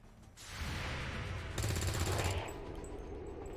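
Sustained rattling gunfire in XCOM 2, a steady burst of rapid shots that grows louder and harsher midway before fading into lingering rumble, fairly quiet overall.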